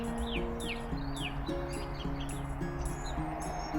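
Small birds chirp beside Selby Canal during a calm kayak outing, quick bright tweets repeating every half second or so, heard over a steady low hum throughout.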